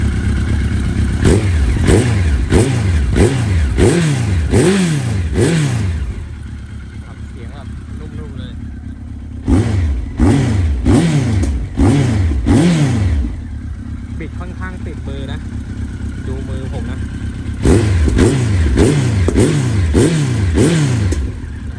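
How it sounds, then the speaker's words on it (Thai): A 2006 Honda CB1300 Super Four with a titanium exhaust is revved in repeated sharp bursts at close range, each one rising and falling quickly. Between the bursts it settles to a smooth, fairly soft idle. "ตัวท่อไทเทเนียมนะครับ ค่อนข้างนุ่มเสียง ไม่ค่อยดังนะครับ เสียงแบบนุ่มเลยแหละ เดี๋ยวผมลองเบิดให้ดู"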